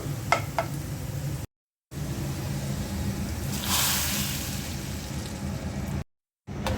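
Green mango, green chili, onion and garlic frying in a pan for dal, giving a steady, soft sizzle with brief stirring scrapes. Two short silent gaps break the sound.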